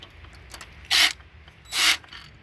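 A ratchet turns out a 10mm valve cover bolt on a Ford Edge in two short, loud bursts of rapid clicking separated by a brief pause, close up against a quiet background.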